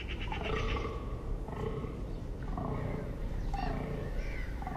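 Red deer stags bell during the autumn rut, a series of deep, rough bellowing roars repeated several times, loud and fairly close, with no talk.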